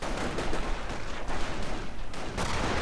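Rifle gunfire crackles through a World War II strategy video game, with dense overlapping shots and blasts forming a loud, continuous battle din.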